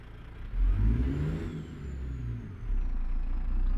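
A 14-liter Detroit 60 Series diesel in a simulated Freightliner Argosy revs in American Truck Simulator, rising sharply and dipping before climbing again, a deep throaty drone with a faint whistle above it.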